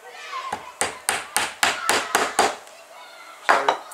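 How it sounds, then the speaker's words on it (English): Axle tapped into the drilled-out wheel of a small spring-powered toy dragster, a run of seven sharp hammer taps in quick succession, then a pause and two more, close and crisp. "let's tap that axle in"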